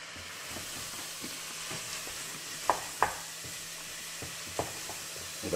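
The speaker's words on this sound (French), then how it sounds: "Et on fait revenir donc pendant 15 minutes. On mélange régulièrement, il ne faut pas que ça accroche au fond." Leeks, onions, garlic and carrots sautéing in a pot for green lentil soup, a steady soft sizzle with a few sharp clinks and scrapes of stirring scattered through.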